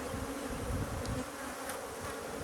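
Honey bees mill around an open hive with full honey frames and no brood to tend, making a dense continuous buzz with occasional closer fly-bys and no voices.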